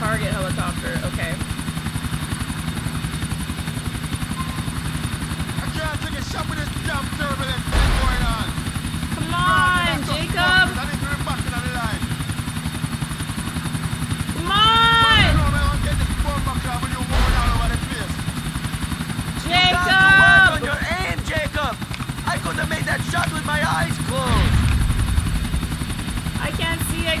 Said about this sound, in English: Get close and move to the right of the target helicopter.